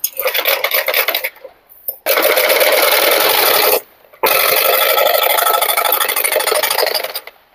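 A sewing machine stitches piping on a princess-cut blouse in loud, close bursts of fast mechanical clatter, with two short pauses between long runs.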